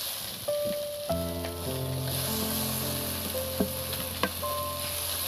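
Chopped tomato tipped into a hot pan of oil for an egg curry with poppy seed paste, hissing in a loud, steady sizzle with a few soft clinks, and no one speaking.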